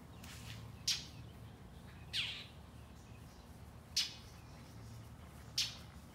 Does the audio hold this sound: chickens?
no